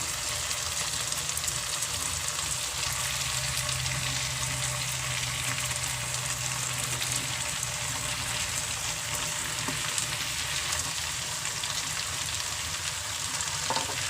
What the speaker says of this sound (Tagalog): ilalagay na natin yung ating Mickey noodles.